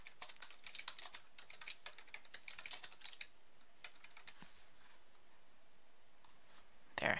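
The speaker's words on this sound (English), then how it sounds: "There, type that in, just for our own benefit." Keys clatter on a computer keyboard in a steady run of quick, close clicks, thinning out toward the end before one sharper tap.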